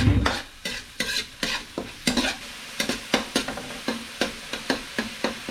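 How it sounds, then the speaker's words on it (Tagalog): Onions frying in a pan are stirred in repeated quick scrapes, each one loud and close, with a soft sizzle running underneath the whole time. "Haluin."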